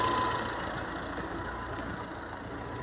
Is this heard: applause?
no